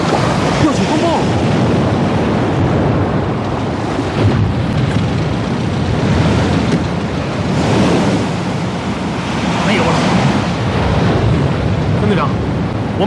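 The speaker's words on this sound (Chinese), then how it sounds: "要起风暴了！" Storm wind gusts and ocean waves roar together in a dense, continuous wash of noise. The surges swell and ebb, and no voices are audible.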